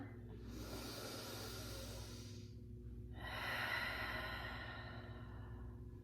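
Two slow, deep breaths taken while holding a stretch, each a long airy inhale or exhale rising and fading, close and soft, with no talking.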